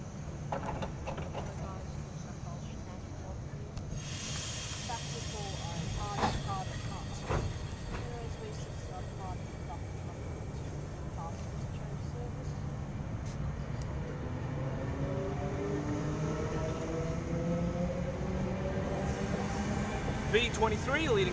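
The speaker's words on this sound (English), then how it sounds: "Here shortly departing from platform number 2, we have a Newcastle interchange service." Newcastle Interchange passenger service, a pair of four-car sets, pulling out of platform 2 at Cardiff station: a steady low rumble of wheels and motors builds gradually, with faint clunks and a rising whine near the end.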